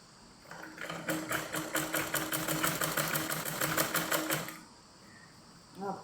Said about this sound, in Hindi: आपको साफ दिखाई दे इसीलिए दूसरे रंग के धागे से सिलाई मारी